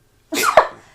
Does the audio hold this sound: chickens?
no